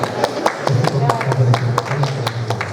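A conference audience gives a speaker scattered applause at a talk on concrete additives, with sharp individual claps rising above a steady low hum and murmur.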